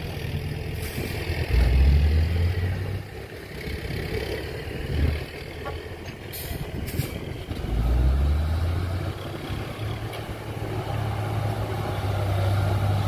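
A heavy ten-wheel truck engine runs while pulling out of deep mud on a farm, a steady low rumble with two louder revving surges and faint background noise throughout.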